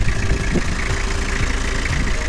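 The diesel engine of a 2001 Toyota Kijang Krista idles close by with a steady low rumble and a faint rhythmic knock.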